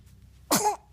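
A young boy sneezes once, a short loud burst with a bright, breathy tail that stands out against a quiet room.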